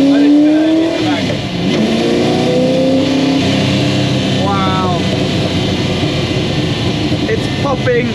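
A 1968 Ford GT40 MK1 V8 engine revs hard and pops on the overrun, heard loudly from inside the car with rising and falling engine tones, while occupants talk and exclaim over it.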